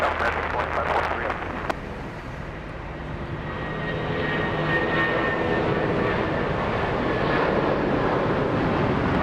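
An American Airlines heavy jet takes off from runway 25 right at LAX, its engines roaring in a broad, sustained rumble that swells a little and stays strong across the whole stretch, with faint radio chatter early on.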